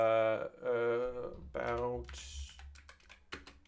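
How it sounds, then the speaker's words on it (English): Keys clatter on a computer keyboard in short bursts close to the mic, partly under a person talking. "I'm also going to type out here"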